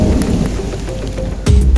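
Heavy rain pours steadily on the slopes of Mount Slamet, with a loud crack and rumble of thunder breaking in near the end over the dense downpour.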